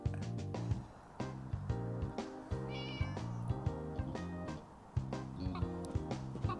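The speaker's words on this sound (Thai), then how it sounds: "มีแมวด้วย" Cats meow in the puzzle video game All Of You, a series of soft, repeated meows set over looping tonal game music, fairly quiet overall.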